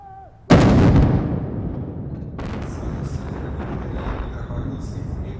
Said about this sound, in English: The salvo of the cannons of the Imperial Pulse Fortress are the signal for the beginning of the celebration.